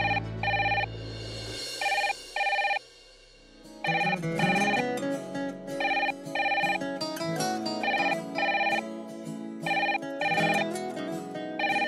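A phone rings on an outgoing call with a repeating electronic tone in regular bursts, running almost the whole time with a short gap early on.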